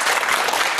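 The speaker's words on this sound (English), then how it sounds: "Let's have a big round of applause for John and Sarah Harper." Studio audience applause on a television quiz show for contestants John and Sarah Harper, a dense, steady wash of many hands clapping close together, brief and fairly loud with no pause.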